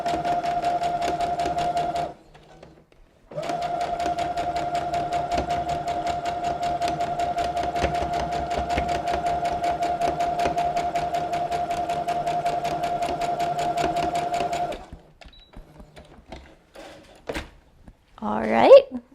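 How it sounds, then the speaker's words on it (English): A sewing machine stitches along a drawn line to form box corners, a steady close whir running about twelve seconds after a brief start, then stopping; a few handling knocks follow, with faint talk near the end. "So now I've moved to my sewing machine and I'm going to sew across this line that I drew, creating those box corners."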